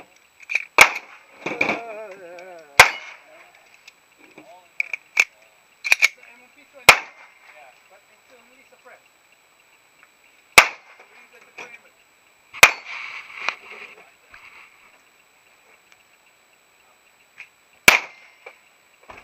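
A Glock 35 pistol fitted with a 9mm conversion barrel fires a handful of sharp, loud single shots, spaced unevenly with long pauses between, while a person talks briefly between some of them.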